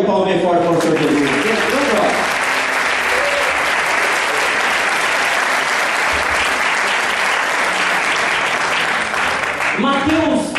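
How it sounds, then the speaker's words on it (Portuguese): A church congregation gives Jesus a long, loud, dense round of applause during a service, steady clapping filling nearly the whole stretch, with a preacher's voice briefly at the start and end. "dê uma salva de palmas bem forte para o Senhor Jesus"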